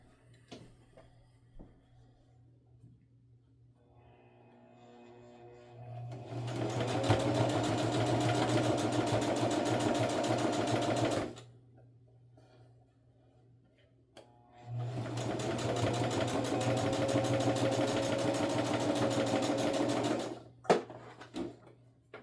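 A sewing machine stitching a makeup bag's lining closed, running steadily in two long close bursts of whirring, rapid stitching separated by a short quiet pause.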